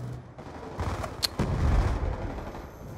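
Bursts of automatic fire from a sentry gun in Call of Duty: Black Ops 2, rattling low and muddy behind game noise, with a sharp crack near the middle and denser firing afterward.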